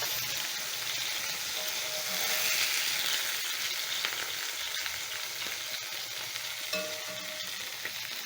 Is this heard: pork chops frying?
yes